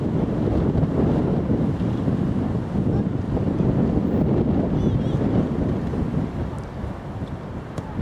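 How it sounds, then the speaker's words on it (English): Strong wind on a countryside walk between Riddlesdown and Coulsdon South buffets the microphone in a constant loud, low rumble throughout. "Very windy today"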